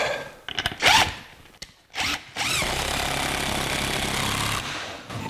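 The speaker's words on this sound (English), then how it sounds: "We'll take a screw and a washer to screw into our pre-drilled hole." A power screwdriver drives a screw and washer into a pre-drilled hole, with short rising whirs and bursts of clicking, then a longer steady whine of the driver running before it stops.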